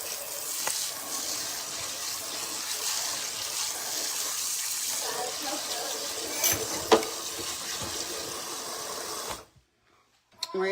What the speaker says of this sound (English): Now I'm going to put some water in my pan so that when I do the dishes, it's not all